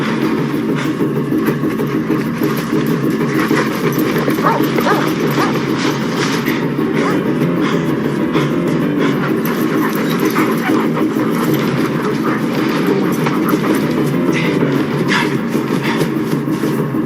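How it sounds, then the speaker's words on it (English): Dogs barking on a hike in the woods, heard under steady noisy rumble throughout, the barks faint and intermittent rather than clear. "Foster, The dogs, Eddie, I can't shake them."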